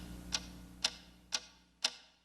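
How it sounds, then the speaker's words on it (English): A mysterious ticking noise, four crisp, evenly spaced ticks about half a second apart, faint and alone over a quiet low background hum. "What is that mysterious ticking noise?"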